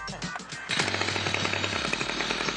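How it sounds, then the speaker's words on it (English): A Stihl trimmer or chainsaw engine with an easy-start spring system starts after a pull cord, a short pull rattle giving way to a loud, steady, buzzing two-stroke run that holds for a couple of seconds. "You wind the first with a gentle pull on the cord, and that spring releases the second one to start the engine"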